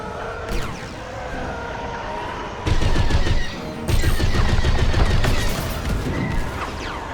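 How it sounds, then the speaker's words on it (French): Enemy starfighters fire blasters in the Star Wars Squadrons space combat game. The dense rapid bursts come loud and close, overlapping in long continuous volleys against a humming cockpit background. "L'ennemi me tire dessus!"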